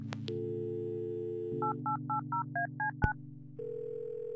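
Touch-tone dialing in the Kathy Rain adventure game: a dial tone hums, then a run of about eight short, evenly spaced keypad beeps follows, with a click near the end before the line tone changes.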